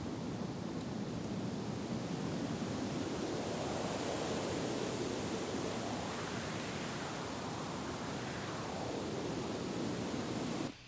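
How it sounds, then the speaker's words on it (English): Synthesized wind made from filtered noise forms a steady, hissing wash, with a slow sweeping resonance rising and falling twice, continuous and even until it cuts off at the end. "that gives me a great effective wind sound"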